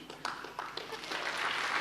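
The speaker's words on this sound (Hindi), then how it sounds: "तालियां थोड़ी कम हो गई हैं" Audience applause at a Hindi business attitude session: steady crowd clapping that swells toward the end, fairly faint and distant, with a voice faintly audible beneath it.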